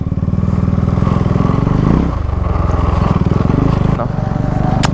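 A Yamaha R15 motorcycle rides off-road on a muddy hill track, its engine chugging loud and close in a steady pulsing rhythm, with a brief dip in revs midway and clattering, scraping noise from the rough ground.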